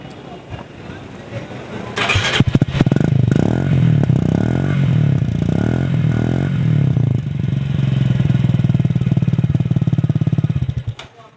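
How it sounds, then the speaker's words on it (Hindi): A Benelli 250 motorcycle engine starts and idles close by, a loud, steady throbbing rumble with rhythmic revving swells lasting several seconds before cutting off, under a road-side setting. "तो इसका साउंड भी सुनवाते हैं आपको।"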